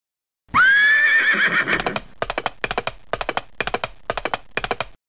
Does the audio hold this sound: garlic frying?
no